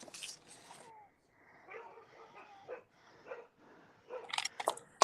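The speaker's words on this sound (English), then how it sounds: "so mean to them poor barking babies" Dogs give a few scattered yips and short barks at moderate volume, with quiet gaps between them and a louder sharp burst near the end.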